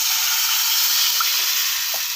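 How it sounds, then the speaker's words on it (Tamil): Water pours into a pan of okra tamarind curry with tomato and masala, a steady, close hissing stream with a faint sizzle, continuous for a couple of seconds. "இப்போ நான் இன்னும் கொஞ்சம் தண்ணி ஊற்றுறேன்"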